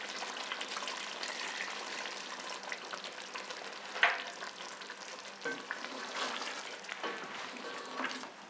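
Chicken biryani masala sizzles and fries in a pot as half a cup of water goes in. Steady crackling and bubbling continue throughout, with stirring scrapes and a sharp hiss near the middle, and no speech.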